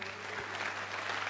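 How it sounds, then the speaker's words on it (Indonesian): Brief, faint applause from an audience at a Democrat party gathering after a Liong dragon dance performance, a short patter of distant clapping. "Tepuk tangan untuk Liong."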